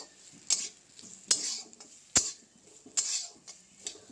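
Chopped onions and garlic fry in a pan while a utensil scrapes and clacks against it in about five sharp, evenly spaced strokes over a faint background sizzle, with no talking.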